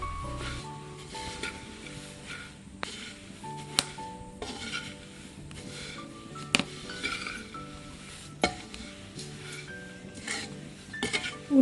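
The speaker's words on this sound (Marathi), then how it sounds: "आता घेतला जवळा भाजायला त्याच कढईमध्ये." Dried small shrimp roast in a wok that already held onions, with scattered metallic clinks and scrapes of a spatula against the pan over a faint, steady background. No one speaks.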